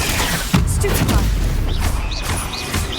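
Stupefy spell fired during combat in Hogwarts Legacy on Xbox Series X: a sharp booming impact at the start followed by ongoing battle effects and whooshes, with a voice calling out spells.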